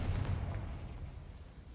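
A Confringo blast spell detonates in a Harry Potter video game, a loud low boom with a rough burst at the start that rumbles and slowly fades over under two seconds.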